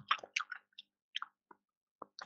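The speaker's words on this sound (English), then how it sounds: "who's chewing? That's fucking disgusting." Wet, squishy chewing close to a headset microphone during an online Project Reality game session, a string of short irregular smacks and clicks separated by silence.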